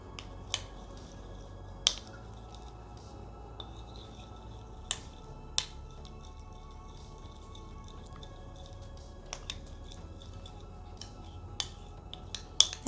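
A spoon stirs chickpea flour paste in a bowl, giving scattered sharp clicks and wet squishy taps against a soft background hiss, close and intermittent.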